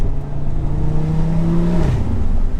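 An Audi RS3 engine revs hard from inside the car while driving, a loud sustained note that climbs in pitch and then drops sharply near the end.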